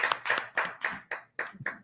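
A single person claps hands in a steady rhythm, about seven sharp, close claps in under two seconds, with no talking over them.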